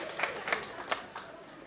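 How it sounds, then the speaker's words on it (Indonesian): Church congregation at a diaconate ordination Mass gives a few scattered, faint claps, four or so distinct hand strikes over a quiet murmuring room. "Marilah kita berikan tepuk tangan yang meriah"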